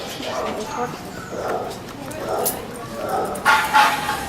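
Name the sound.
dog barking in an animal shelter kennel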